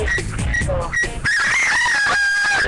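A rooster crowing loudly in a drawn-out call, heard over a loud, dense background of other sounds.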